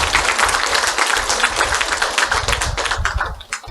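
A congregation applauds at a temple anniversary service, a loud, dense burst of many hands clapping that holds steady throughout and tapers slightly at the end.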